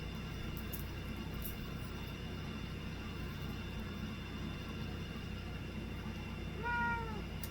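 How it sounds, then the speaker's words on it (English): A cat meows once near the end, a short clear call over a constant low indoor hum, otherwise quiet. "My cat's getting into my crystals that I just got today."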